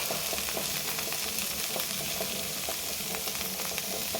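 Okra, onion and garlic with cumin seeds frying in a pan, a dense, continuous close sizzle with faint stirring scrapes and no talk.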